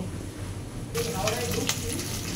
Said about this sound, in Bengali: এই মাছের মাথাটা এই তেলের মধ্যে ভেজে নেব।